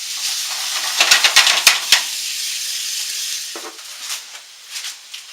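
Meatballs sizzle steadily in a pan for spaghetti and meatballs, a bright close frying hiss with a cluster of sharper crackles and pops early on, then a softer simmering sizzle with a few light stirring scrapes.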